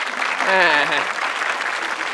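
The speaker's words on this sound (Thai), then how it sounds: "ขอเสียงปรบมือก่อนแล้วกันนะครับ" Audience applause at an innovation awards event in Thailand, a steady wash of clapping sustained through the clip, with a voice speaking over it briefly near the start.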